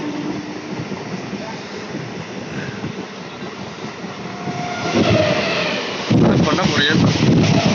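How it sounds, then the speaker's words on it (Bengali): A passenger train pulls into a station on a foggy day, a loud rumbling roll with wheel clatter growing heavier near the end, with wind buffeting the microphone. "এরা ট্রেন ঢুকে গেল"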